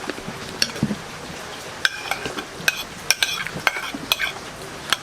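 Sisig frying in a pan, a busy sizzle broken by frequent metallic clinks and scrapes of a spatula stirring against the pan.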